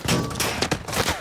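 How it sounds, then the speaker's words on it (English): A quick cluster of gunshots in a Call of Duty video game, several sharp cracks in about a second, close and fairly loud. "I'm under fire"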